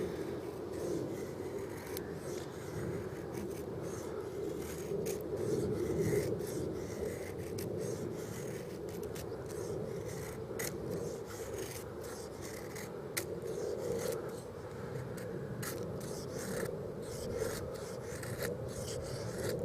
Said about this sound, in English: We're just going to do some simple feather sticks